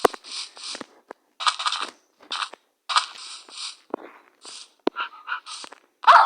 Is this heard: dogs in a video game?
yes